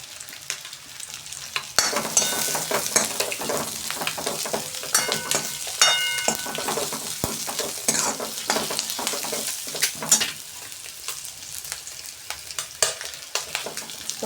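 Ginger, garlic and tomato sizzle steadily in a hot pan as a spoon stirs and scrapes through them, with a continuous crackle and frequent sharp clinks against the metal.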